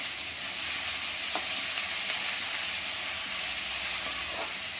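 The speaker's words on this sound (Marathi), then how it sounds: "कांदा चांगला लालसर होईपर्यंत आपल्याला तळून घ्यायचं आहे" Onions fry in a pan, browning until reddish, with a continuous even sizzle and hiss heard alone at moderate loudness.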